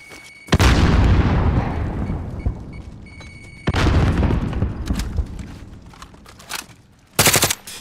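Explosions in the battle royale shooter Call of Duty Warzone include a thrown grenade. Two loud close blasts each trail off into a long rumbling decay, followed by a short sharp burst of gunfire-like cracks.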